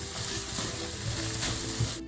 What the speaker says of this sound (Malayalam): ഇനി നമ്മൾ അതിലേക്ക് പച്ചമുളകും ചതച്ച് വെച്ചിരിക്കുന്ന ഇഞ്ചി വെളുത്തുള്ളി ചേർത്ത് ഒന്നും കൂടി നന്നായിട്ട് അതിൻ്റെ പച്ചമണം മാറുന്ന വരെ വഴറ്റും.